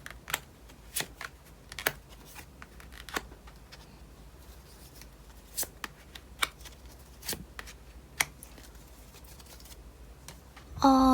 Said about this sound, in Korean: 총 12장의 카드를 뽑아볼게요.